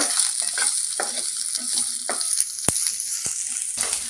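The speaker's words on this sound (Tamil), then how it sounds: "வெங்காயத்தை இப்படியே வதக்கிட்டு இருக்கிற சமயத்தில்" Garlic and onion sautéing in a pan, with a loud, continuous close sizzle broken by brief spatula scrapes and taps.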